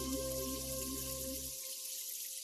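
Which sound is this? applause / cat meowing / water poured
water poured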